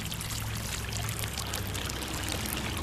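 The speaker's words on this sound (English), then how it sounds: "Now, slowly pour a pitcher of water over the top." Water slowly poured from a pitcher over a mound of sand, soil, pebbles and mud, giving a steady, continuous splashing pour that stays close and even throughout.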